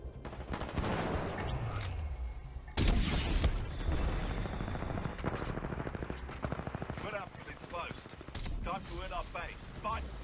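Rapid automatic weapon fire and shots from Titanfall 2 gameplay, dense bursts filling the scene with a loud rattle, later giving way to quicker clipped volleys; a voice talks briefly over part of it.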